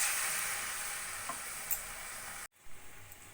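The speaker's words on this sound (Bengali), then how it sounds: "কড়াইতে দিকে আমি তেল গরম করে নিয়েছি। এবার একটা একটা করে আমি ছেড়ে দেব।" Battered potato pieces fry in hot oil in a wok with a steady, moderately faint sizzle that breaks off briefly, then resumes with a few soft bubbling pops.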